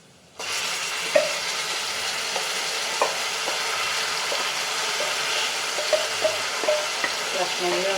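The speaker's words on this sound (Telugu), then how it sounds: "మంచిగా ఆయిల్లో కలిపేసుకోవాలన్నమాట ఆయిల్లో కొంచెం సేపు కుక్ అనుకోండి" Gongura leaves stirred through hot oil in a pan, a steady close sizzle of frying with occasional spoon scrapes and taps against the vessel throughout.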